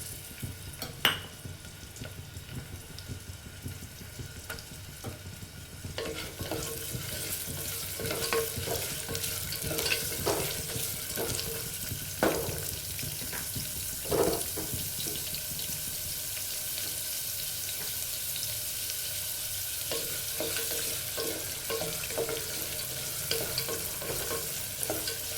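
Onions frying in a pan for mint rice are stirred, a steady sizzle with scraping spoon strokes and occasional clinks, close and continuous without talk.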